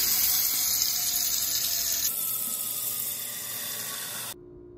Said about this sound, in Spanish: Ya puse aquí el agua para poner las papas a cocer. Puse media olla de agua.